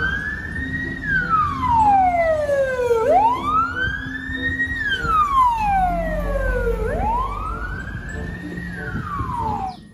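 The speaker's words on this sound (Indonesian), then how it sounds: "yang ini ada mobil ambulan teman-teman" A toy ambulance siren wails, sweeping up and down in slow, repeated cycles, loud and steady, with a faint low hum beneath it.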